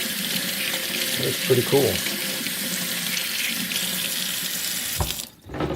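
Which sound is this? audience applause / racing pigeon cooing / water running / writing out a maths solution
water running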